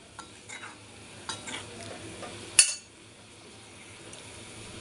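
Yam kofta curry gravy bubbling in a pan, a soft steady simmer with a few gentle stirring scrapes and one brief clink of a utensil.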